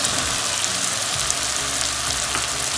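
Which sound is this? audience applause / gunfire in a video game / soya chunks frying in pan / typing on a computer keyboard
soya chunks frying in pan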